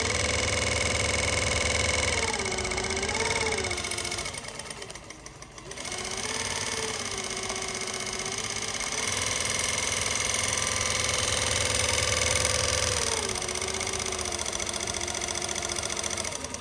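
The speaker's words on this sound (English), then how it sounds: "start winding the bobbin like this" Juki 1541S sewing machine winding a bobbin, a steady close mechanical whir and hum that runs throughout with a brief dip in the middle, no voices.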